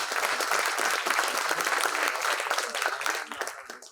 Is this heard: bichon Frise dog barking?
no